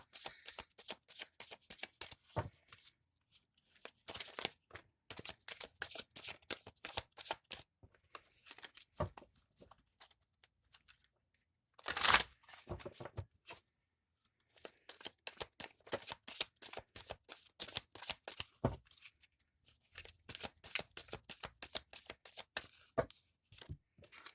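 A deck of tarot cards is shuffled close up in repeated riffling bursts of crisp flicking and sliding, with short pauses and one louder bridge-like flurry midway, no voices.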